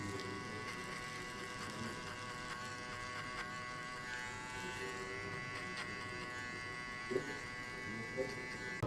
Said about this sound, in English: Now open the clipper to the end and just cut 1 centimeter from here.